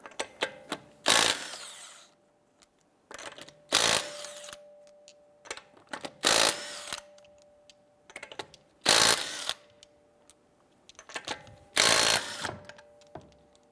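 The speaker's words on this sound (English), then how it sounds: "we're going to go ahead and remove our lug nuts." A power tool with a 19mm socket removes the lug nuts from a 2012-2017 Toyota Camry wheel, in five sharp loud bursts spaced a few seconds apart with quiet gaps and small clicks between them.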